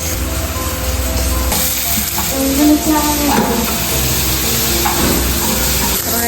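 Dosa batter sizzles and fries loudly on a hot pan, a steady crackling hiss with occasional stirring or scraping and a brief quieter moment near the start, close up with no talking.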